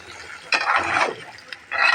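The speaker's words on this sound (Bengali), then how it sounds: "এখন আমি ফোড়নটা ঢেলে দেব" Hot garlic and onion tempering poured into cooked pumpkin greens and lentils, giving two bursts of hissing sizzle with a short gap between them, fairly close and loud, with no talk over it.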